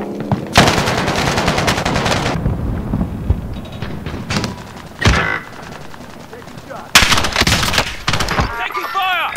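Bursts of automatic gunfire in the video game Call of Duty: Warzone, loud close volleys separated by brief lulls, with mechanical clatter and game voice lines.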